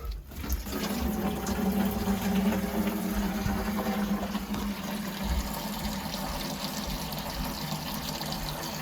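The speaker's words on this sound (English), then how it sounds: "Pop open the relief valve." Water rushes out of the opened relief valve on an airlocked New York home boiler, a steady loud gush with a low gurgling hum that continues without talk.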